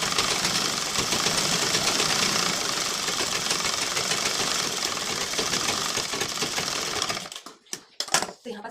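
Sewing machine stitching a blouse lining to the blouse piece, a fast continuous mechanical whirr running steadily for about seven seconds, then stopping abruptly with a few handling clicks.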